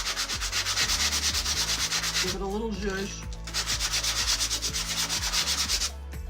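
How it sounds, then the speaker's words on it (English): A sanding block rubs back and forth over a wooden plaque coated in white chalk paint, giving steady rhythmic scratchy strokes up close, broken by a short spoken remark midway. "going to take a little sanding block,"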